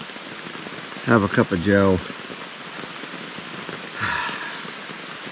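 Steady rain falling around a shelter on a mountain hike in the Carter-Moriah Range, a soft continuous patter under a man's brief speech.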